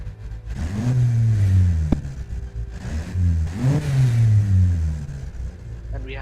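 A reworked Alfa Romeo Giulia 2.9L engine in a video game, revving hard twice in rising-and-falling sweeps with a gravelly tone, loud and close, with a voice talking faintly in the background.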